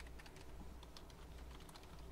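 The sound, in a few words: typing on a computer keyboard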